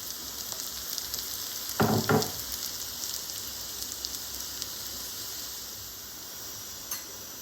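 Food roasts in oil over a higher flame, giving a steady soft sizzle throughout with two brief louder bursts of stirring early on and a small clatter near the end.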